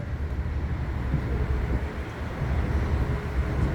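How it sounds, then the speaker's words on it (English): An Amtrak train runs beneath a building built on air rights, heard from a tour boat on a river: a steady low rumble with broadband wind-like noise that holds evenly throughout. "you can see the Amtrak train that is currently beneath it"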